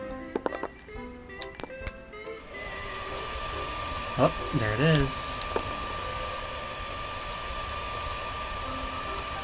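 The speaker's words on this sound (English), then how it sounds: "Okay, so we've got a hairdryer." A hairdryer in the video game I am Bread runs as a steady, moderately loud hiss that carries through most of the clip, starting after a few seconds of quieter noises, with a brief voice speaking over it.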